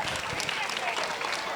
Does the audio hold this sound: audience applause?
yes